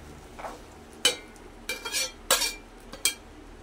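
Soaked, boiled peas go into a pan of fried masala and are stirred, giving several sharp clinks and scrapes of a spoon against the metal pan over a faint background, with no talking.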